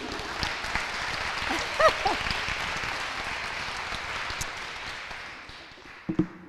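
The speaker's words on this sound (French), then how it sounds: "Alors, Émilie, applaudissons-la aussi." A crowd applauds steadily for several seconds, the clapping fading toward the end before a few brief sounds close by.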